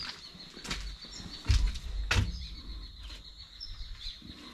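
Birds around a lake near a bird hide, where pelicans gather, give a few loud wing flaps and scattered chirps over steady outdoor ambience, fairly close, with quiet stretches between bursts.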